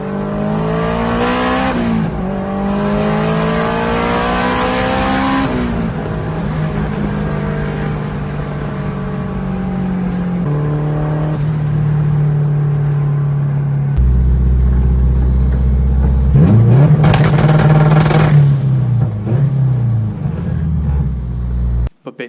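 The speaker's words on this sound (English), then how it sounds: "Here's a few clips of some pulls and two-step." A Honda S2000 with an Amuse GT1 kit revving hard through several pulls, the engine note climbing and dropping, then a loud popping two-step burble near the end, all close and loud.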